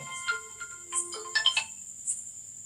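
A melodic electronic ringtone announces an incoming call on a mobile phone, playing a short bright tune close by with faint room noise beneath.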